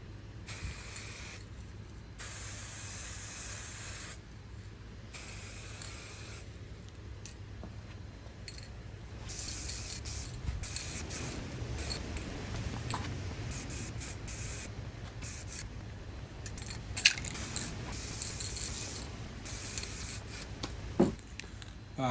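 Repeated short bursts from an aerosol can spraying light coats of clear lacquer onto a 1978 Gibson Les Paul Deluxe guitar, steady hissing sprays with brief pauses between passes, close and fairly quiet.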